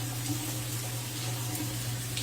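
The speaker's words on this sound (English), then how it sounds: "Primary bathroom shower, you can see I have all three fixtures running at the same time." A primary bathroom shower runs with all three fixtures on together, including therapy jets with no water pressure, giving a steady, even rush of water with a low constant hum throughout.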